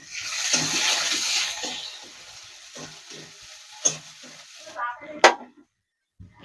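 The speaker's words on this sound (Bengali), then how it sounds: "দিয়ে পেঁয়াজটা দিয়ে দেবো।" Chopped onion goes into hot oil with bay leaf and dried red chillies, giving a loud, steady sizzle up close that eases off before a few stirring clatters and a brief silence.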